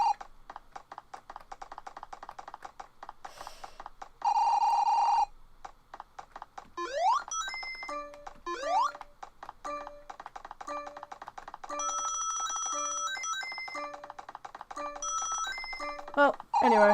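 Sonic game music and sound effects play through a Steam Deck setup, with bright synthesized tones, rising sweeps and steady rhythmic notes filling the stretch at moderate loudness and no talk over them.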